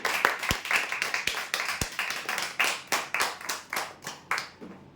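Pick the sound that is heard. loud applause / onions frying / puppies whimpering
loud applause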